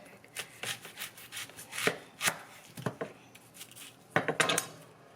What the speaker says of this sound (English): so you're gonna grab a red onion. You're going to cut off the ends